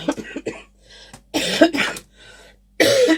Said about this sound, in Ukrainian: Вибачайте, буду кашляти, бо задихнувся.